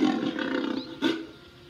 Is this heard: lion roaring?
yes